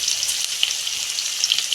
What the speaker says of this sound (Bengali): সবজিটা দিয়ে দিচ্ছি